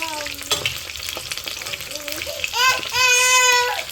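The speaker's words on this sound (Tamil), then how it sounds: "நாங்கள் சிக்கன் நல்லா பொரிஞ்சிட்டு இந்த கருவேப்பிலை பொரியாட்டு நாங்கள் இறக்கணும்." Bone-in chicken 65 and curry leaves crackle and sizzle as they deep fry in masala oil, with stirring close by. A voice babbles over the frying.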